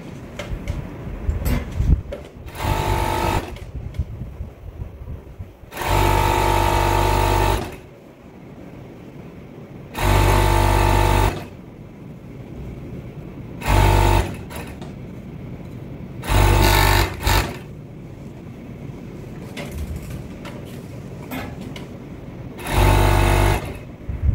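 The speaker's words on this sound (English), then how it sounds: "the next thing we're going to do is to use overlock to finish off the down part" An overlock sewing machine finishing cotton boxer fabric, running in loud, close bursts of a few seconds each, separated by quieter pauses filled with handling clatter and small clicks.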